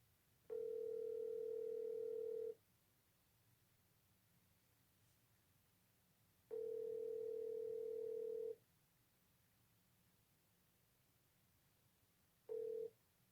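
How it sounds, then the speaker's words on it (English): Telephone dial tone on a phone placing a call, sounding as three steady tone bursts of about two seconds each with pauses between, the last one cut short, over a faint background hiss. "let me see if I can able to call Pete"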